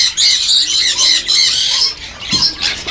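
Parakeets squawk in a dense, shrill chorus at Pramuka bird market, many birds calling continuously close by.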